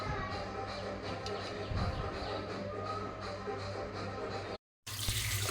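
Steady running water from a tap over boiled potatoes, a broad continuous rush with a brief cut near the end before it resumes.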